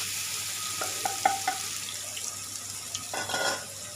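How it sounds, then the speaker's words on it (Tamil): Grated coconut fries in a pan over a low flame, giving a soft, steady sizzle with a few scraping stirs close by, quiet and unaccompanied by voices. "அடுப்பை நல்லா சிம்மில் வச்சுக்கிட்டு நம்ம இந்த துருவி வச்சுருக்க தேங்காய் போட்டுக்கலாம்"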